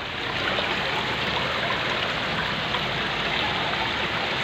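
Waterfall pouring inside a temple cave, a dense, steady roar of rushing water that fills the space evenly and close by, with no voices over it.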